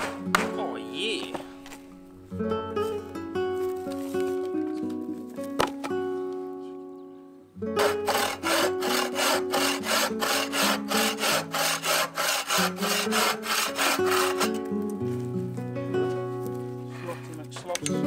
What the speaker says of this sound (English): Killing my batteries with jigsaw.